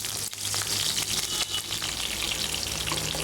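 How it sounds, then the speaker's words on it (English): Green chili pieces, curry leaves and coriander leaves fry in hot oil with mustard seeds for a biryani gravy, a dense, steady, close sizzle with faint stirring scrapes. "now into this add these green chili pieces and curry leaves"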